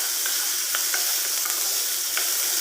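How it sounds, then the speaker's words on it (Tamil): Onion and curry leaves sauté in hot oil in a pan for an egg masala dosa filling, giving a steady, loud, even sizzle with a few faint stirring clicks and no voices. "ஆனியன் ஆட் பண்ணதுக்கப்புறம் நம்ம நல்லா சாட்டே பண்ணி விட்டுறலாம்."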